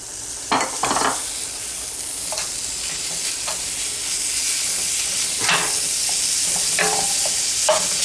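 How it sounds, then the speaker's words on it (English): Ground beef frying in a cast iron pan, loud and close, with a continuous hissing sizzle and a few sharp scrapes and taps as the meat is broken up. "you actually cook the entire ground beef in a pan until it's all separated"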